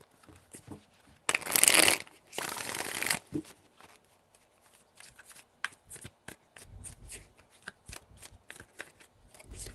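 Tarot cards being shuffled in two loud riffling bursts, followed by softer scattered taps and flicks of the deck, close up with no talking.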